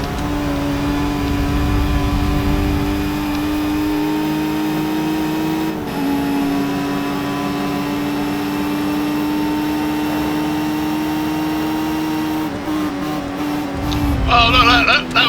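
A race car engine in an old racing video game drones steadily at a high sustained pitch, holding power without braking, then shifts and rises near the end amid some clicking.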